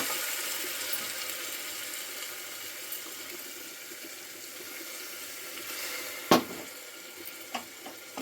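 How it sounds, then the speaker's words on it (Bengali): A gentle sizzle of spiced meat in a pan is broken by a sudden sharp hissing splash as a little water goes in, followed by a few quieter clinks and bubbling pops. "মশলাটা জ্বলে না যায় সেই জন্য আমি অল্প একটু পানি দিয়ে দিলাম।"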